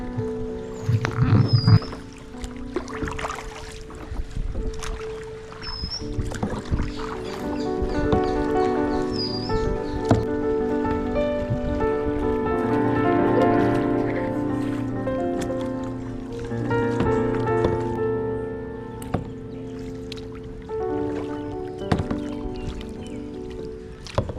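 Kayak paddle strokes dip and splash through calm Kuttanad backwaters in Kerala, rhythmic and close, while music and scattered bird calls carry through the background.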